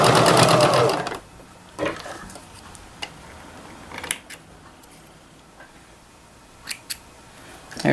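Sewing machine stitching a reversible apron in one short, loud burst at the start, then falling quiet apart from a few small clicks and taps.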